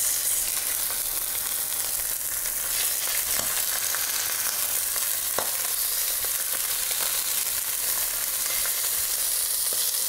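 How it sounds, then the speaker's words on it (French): Clarified butter sizzles steadily in a hot frying pan, a loud, close, continuous hiss with faint crackles and an occasional soft tap, with no voices. "j'ai mis une poêle à chauffer dans laquelle je vais mettre un petit peu de matière grasse, là en l'occurrence, du beurre clarifié"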